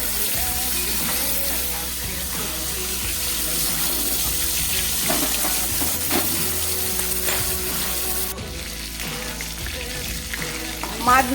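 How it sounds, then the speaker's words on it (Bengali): Rohu fish, salted and coated in turmeric, frying in oil in a wok, giving a steady dense sizzle that runs unbroken throughout with a few clinks and stirring sounds over it. "মাছগুলোকে আমি প্রথমে ভেজে নিচ্ছি"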